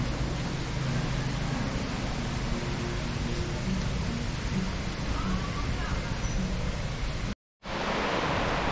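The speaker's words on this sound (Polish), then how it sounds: "Jest! W końcu pada!" Steady rain hissing down in a broad, even wash, briefly cutting out near the end before resuming, with voices murmuring faintly beneath it.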